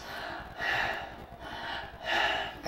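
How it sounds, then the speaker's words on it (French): Shallow breathing high in the chest, shown as a relaxation example: three or four broad, airy inhale-exhale swells repeat at an even pace, close and fairly loud, with no talk over them. "Ça donne une respiration au niveau thoracique ici."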